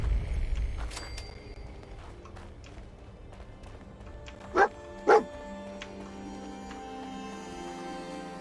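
Dog barking in the video game Fallout 4, two sharp barks in quick succession, fairly close, over quiet ambient background.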